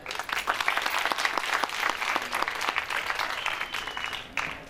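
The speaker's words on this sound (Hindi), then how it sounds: "आपके भरपूर तालियों में।" Applause from an audience at a farewell event where a teacher addresses students, dense continuous clapping sustained throughout at steady moderate loudness, with no speech over it.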